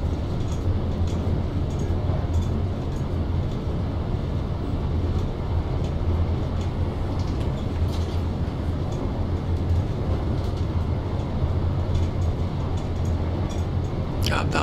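A BR110 regional train with a Bnrbdzf control car in Train Simulator 2022 rolls along with a loud, unbroken low rumble and steady track noise.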